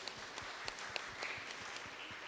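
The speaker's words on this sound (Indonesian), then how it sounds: "Tepuk tangan saudara" Church congregation applauding, a faint, sparse clapping with distinct individual claps standing out in a loose rhythm over a quiet room.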